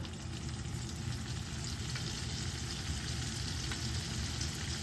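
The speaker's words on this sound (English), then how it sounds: "You got 5 tablespoons of butter there. We're gonna let it melt." Butter with rosemary sizzling in a pan on a grill setup, a steady low crackling fry that stays even and moderately quiet throughout, with no voices.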